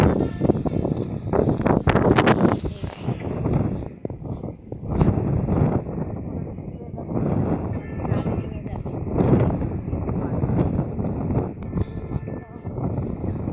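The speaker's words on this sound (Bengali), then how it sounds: "একটু আগে কিছুক্ষণ ঘুরে ঘুরে বৃষ্টি পড়ছিল, অনেক বেশি বাতাস হচ্ছে।" Strong wind buffets the microphone outdoors after rain, a loud, continuous roar with gusting swells; a person talks over it.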